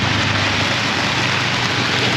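Small hail pellets fall at about 4,000 meters altitude in Bolivia, making a loud, dense, steady hiss of many tiny impacts with no talking.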